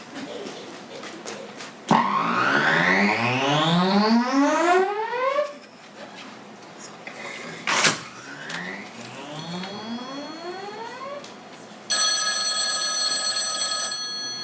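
A telephone rings loudly and insistently, with sweeping electronic tones rising in pitch and then a steady bright trilling ring at the end, alone with no voices.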